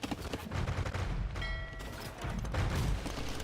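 Cannon galleons fire in a medieval real-time strategy game match, a dense, continuous crackle of overlapping booming shots with metallic mechanism clatter, loud and busy throughout with no talking.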